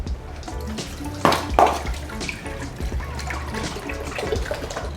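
Homemade beef stock, about eight cups, pours into a pot with a steady liquid rush and a couple of louder splashes early on, close by with no talk.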